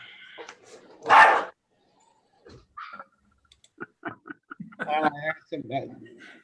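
Dogs bark in a house during an online board meeting, one loud nearby bark standing out, followed by scattered yips and whines among people speaking.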